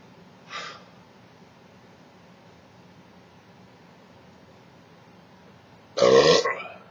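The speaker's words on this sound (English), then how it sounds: "See any other burps coming?" Two burps: a short, faint one near the start and a louder, longer one near the end, separated by quiet background hiss with no talking.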